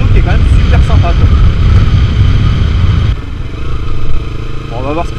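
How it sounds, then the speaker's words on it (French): A Kawasaki Ninja 300 parallel-twin motorcycle on the road, its engine droning loud and close with rising revs and gear changes, the note dropping abruptly partway through, with a rider speaking over it. "le bicylindre face à la route, côte à côte, le son est pas mal"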